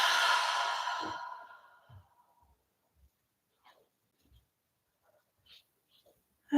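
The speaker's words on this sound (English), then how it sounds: "And exhale through the mouth." A single deep breath pushed out through the mouth during a relaxation pose, a long airy exhale lasting about two seconds, close and fairly loud, then near silence with a few faint soft movements.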